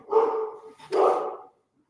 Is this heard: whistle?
no